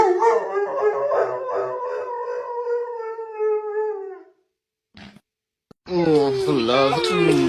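A pet dog howls in a long, sustained, wavering tone for about four seconds, then falls silent before a second howling burst starts up, close and loud, with no talking over it.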